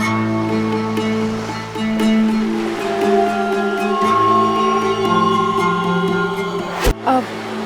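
Sea waves wash over a sandy beach in a steady, continuous surf roar, with a brief sharp splash or knock near the end.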